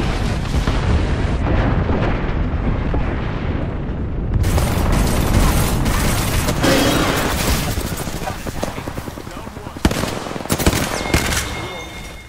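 Gunfire and explosions in an Apex Legends match: dense, continuous bursts of automatic weapon fire and booms fill the scene loudly throughout, with sharp louder shots near the end.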